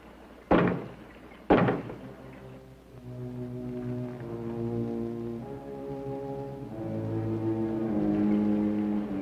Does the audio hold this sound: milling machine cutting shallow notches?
no